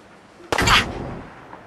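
A single sharp gunshot from a gun in the video game Fallout 4 cracks out loud and close, then trails off into a short decaying tail with no talk over it.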